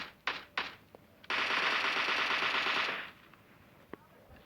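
Automatic gunfire in the mobile shooter PUBG Mobile Lite on the Sanhok map: a couple of sharp single shots, then a dense sustained burst of rapid fire for about a second and a half, loud and close, with a faint shot afterward.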